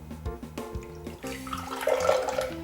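Water runs from a tap into a glass, a steady rushing pour that brightens and rises near the end. Soft musical tones sit beneath it.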